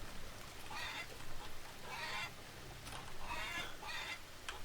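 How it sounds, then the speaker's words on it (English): Chickens cluck in bursts in the farming game Farmer's Dynasty, with a rooster among the flock, fairly faint over a low steady rumble, repeating in three or four separate runs. "Maybe he's out there cock-a-doodle-dooing."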